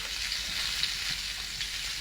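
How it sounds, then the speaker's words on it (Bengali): Cut pumpkin and potato pieces fry in oil in a pan, giving a steady, close, even sizzle with faint crackles throughout and no voices. "খিচুড়ির জন্য আলু কুমড়ো কেটে রেখেছি, এটা ভেজে নেব।"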